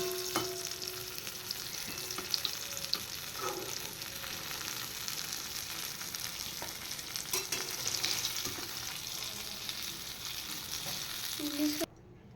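Eggplant pieces frying in oil with turmeric and salt: a steady, moderate sizzle with intermittent stirring scrapes and clinks, ending abruptly near the close, with no talking.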